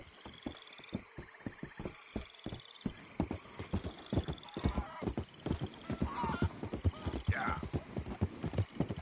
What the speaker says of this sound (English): Hope I never have to be on that horse again, dang animals.